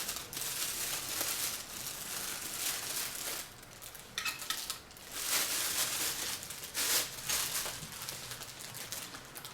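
Plastic packaging crinkles and rustles in bursts close by while a rubber-band powered toy glider is pulled out of a parcel from China, with a few sharper crackles near the middle and end.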